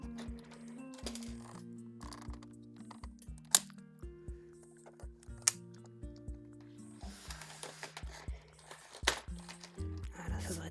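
Clacking keys and bumps of a computer keyboard being shifted around on a cluttered desk and typed on, with irregular taps and knocks close by, over steady music in the background.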